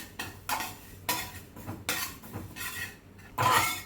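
Sesame seeds dry-roasting in a pan on low heat while a spoon scrapes and stirs them, giving repeated scratchy bursts of metal on metal about every half second, close and fairly loud, with no talking.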